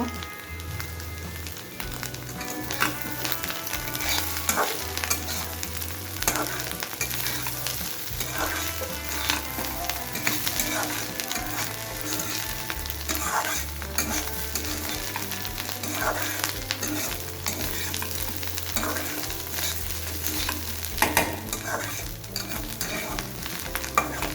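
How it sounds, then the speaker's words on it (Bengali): Bottle gourd peel fries in a pan, sizzling continuously while a utensil stirs and scrapes it in a busy, close rhythm throughout. "আরও একটু ভেজে নেব"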